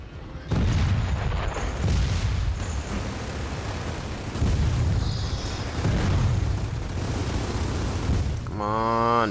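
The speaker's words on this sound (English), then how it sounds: "I'm gonna set another fucking grenade down." Grenade blasts in Gears of War 4, heavy booming explosions with rumbling low end and chaotic combat noise throughout, loud and sustained with a few distinct swells.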